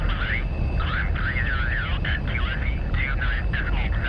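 An F-104 Starfighter takes off in DCS with a steady, loud jet engine roar underneath, while a voice talks over it almost the whole time.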